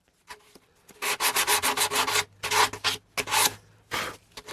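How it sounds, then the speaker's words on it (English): Sanding strokes on a 3D-printed M.A.S.K. helmet replica, a rapid series of loud, close rasping rubs in rhythmic bursts with short pauses, no talking. "since we're sanding, I figured I'll talk a couple of seconds about sanding"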